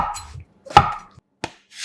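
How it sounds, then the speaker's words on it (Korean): A knife chops through a king oyster mushroom on a cutting board, giving a few sparse, close thuds with brief gaps between them and no voices. "새송이 버섯 한 개는 반을 갈라 큼지막하게 빚어 썰어"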